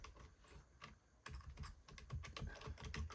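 Quick, quiet typing on a computer keyboard produces a dense run of light key clicks that pick up pace after a brief pause, with no voices.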